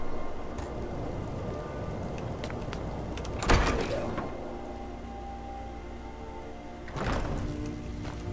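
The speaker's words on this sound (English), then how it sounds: "Their door closed early." In the video game Skyrim, an NPC's wooden door closes with a sharp thud partway through, then a second softer knock follows later, both over a steady low ambient hum.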